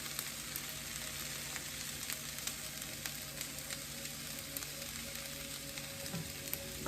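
Shrimp and ginger fry in a stir-fry pan, giving a faint, steady sizzle with small crackling pops scattered throughout, no talk.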